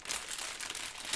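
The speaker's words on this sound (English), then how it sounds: "You're rustling that bag as much as possible." A plastic bag is rustled and crinkled close by, with continuous crackling that grows louder near the end; no one talks.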